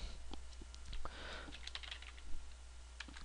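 Keys clack on a computer keyboard in quick irregular bursts, moderately faint, over a steady low hum with no talking.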